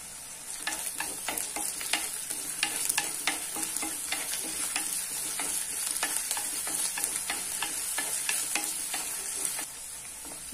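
Crushed ginger and onions sizzling in a pan for a Kerala-style fish curry, a steady bright fry with frequent sharp stirring scrapes and clicks, close and continuous without talk.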